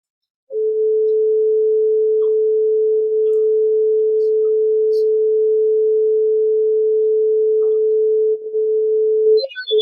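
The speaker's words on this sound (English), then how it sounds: "using the accelerometer to control how much pitch shifting is happening and the volume as well" A synthesized sine tone holds one steady pitch for about nine seconds, with pitch and volume meant to shift as a head-mounted accelerometer moves. It stays loud and clean, wavering only slightly near the end.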